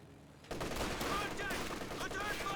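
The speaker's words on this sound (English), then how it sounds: "MG34 in a good position there, suppresses down the rifleman." MG34 machine gun in Company of Heroes 2 rattling in continuous bursts amid a busy battle mix, starting abruptly after a quiet half-second and staying loud throughout.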